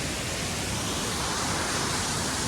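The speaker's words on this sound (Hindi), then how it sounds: "यहाँ आ रहा है ये झरना, ये झरना।" The Neer waterfall near Rishikesh roars as a steady, dense rush of falling water, loud and continuous with no change in level and no voices.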